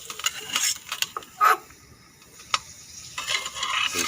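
Aloo tokri potato baskets frying in hot oil in a pan, with a steady soft sizzle broken by a few sharp clinks and scrapes of a utensil, close and moderately loud.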